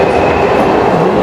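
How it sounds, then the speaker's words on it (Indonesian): Subway train rushing through an underground station in Japan, a loud steady roar of wheels and rails filling the space, close and continuous with no voices. "Oke, ini keretanya udah lewat lur."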